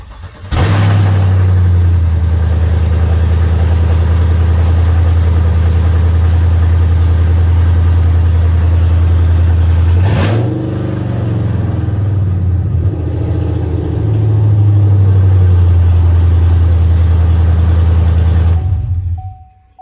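A GM truck converted from a V6 to a V8 cranks and starts, then settles into a loud, steady low idle with a brief dip and rise in the middle before cutting off; no talking.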